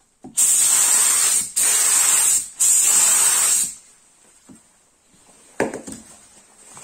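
A foam gun sprays polyurethane foam onto a small round object in three loud, steady hissing bursts, each about a second long, followed by quieter handling noises and a brief final spurt, with a short spoken word.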